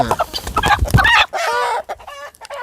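Chickens and a rooster on a farm cluck loudly and repeatedly, followed by a clear crow in the second half, close and without talk.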